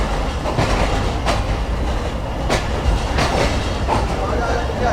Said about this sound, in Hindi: 11:15 बजे हमारी ट्रेन अप्रोच बना रही है सिंध के दिल यानी नवाबशाह रेलवे स्टेशन पर